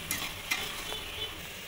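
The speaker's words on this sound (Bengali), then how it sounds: "মশলাটা ভালো করে ভাজা হয়ে গেছে" Spice paste frying in a pan for a fish recipe, with a steady sizzle and a few sharp stirring scrapes; no talk.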